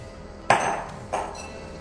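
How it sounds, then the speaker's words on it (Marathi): Lid set down over a bowl of kneaded dough for khari shankarpali, landing with a sharp clink followed by a second lighter knock, close and brief. "वरून झाकण ठेवून द्यायचंय।"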